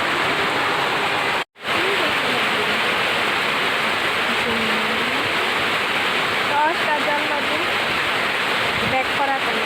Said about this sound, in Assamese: এইটো তেজপুৰ টাউনত দি আছে বৰষুণ।